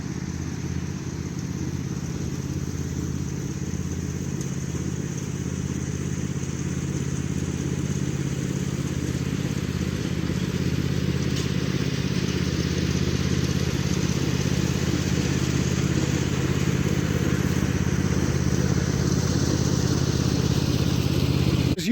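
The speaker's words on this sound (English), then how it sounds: "As usual, Little Red Tractor's done a sterling job." A small red tractor's engine runs steadily for the whole stretch, a constant low drone with a mid-range hum, fairly close and alone, with no talk over it.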